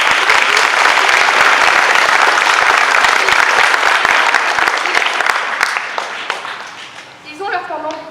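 Audience applauding at a French lycée students' stage show, loud sustained clapping that fills the room before tapering off, with a few voices near the end.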